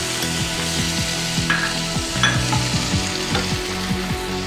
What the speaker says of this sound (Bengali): একটু আমি নাড়াচাড়া করে নিচ্ছি এবার আমি টমেটো কুচিটা দিয়ে দিচ্ছি